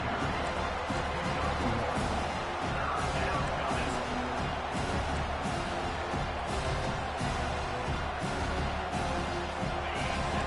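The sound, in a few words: home crowd cheering at a football game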